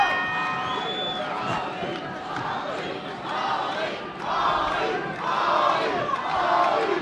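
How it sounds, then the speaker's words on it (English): A boxing crowd at a Holly Holm versus Mia St. John bout chants and cheers in rising and falling waves, a distant arena roar with commentary talk over it. "And there goes the crowd, starting with the Holly chants."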